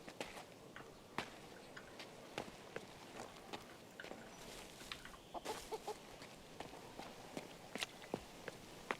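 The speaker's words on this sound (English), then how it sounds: "Another green chicken." Chickens in the King's Bounty 2 video game, scattered soft clucks mixed with repeated footstep-like taps over quiet ambient game sound, no speech.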